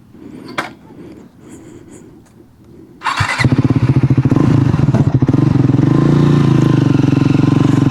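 A Triumph Scrambler 400 XC motorcycle idles quietly, then its engine fires up abruptly and settles into a loud, close, rapid exhaust throb that holds steady as the bike gets under way.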